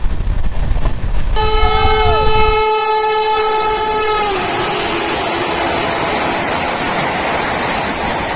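The Radhikapur Express passenger train sounds a long, loud horn blast that cuts off, followed by the steady roar and rumble of the train rolling past close by.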